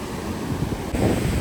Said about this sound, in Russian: Волна огромная, мы приехали на пляж.